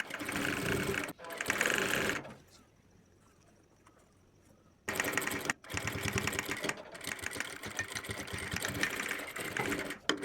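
A sewing machine stitching a kurta collar runs in two loud bursts of rapid, steady mechanical whirring, separated by a quiet pause of a few seconds. It sounds close and is not accompanied by talk.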